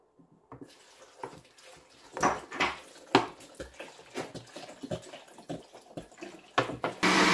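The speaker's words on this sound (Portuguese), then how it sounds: "Daí eu vou colocar água aqui." Water poured into a blender holding mango pulp for mango juice makes irregular close splashes and pours, mixed with clinks of utensils and containers.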